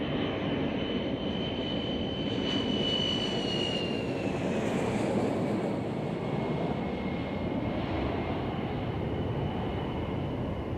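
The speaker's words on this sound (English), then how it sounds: "This Candid is performing very low-level cargo drop test runs." Russian Ilyushin Il-76 Candid four-engine military transport aircraft flying very low on a cargo drop test run, a loud steady jet roar with a rising then falling whine as it passes close overhead.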